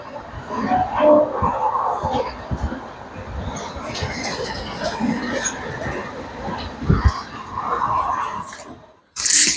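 Firozpur–New Delhi intercity train running fast at around 100–110 km/h, a continuous rattling rumble of carriages heard from inside, with voices talking over it and a sharp high burst at the very end.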